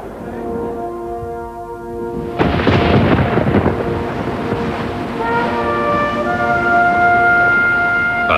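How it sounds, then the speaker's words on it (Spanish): Heavy thunderstorm over New York harbour: a loud rumbling crash of thunder breaks in, backed by sustained tonal drones like a ship's horn blowing before and after. "bajo una fuerte tormenta"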